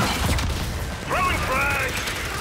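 Weapon reloading in Gears 5 Horde on the Turbine map: a brief mechanical clack and ratchet, with a tonal game voice or effect rising over steady combat background noise.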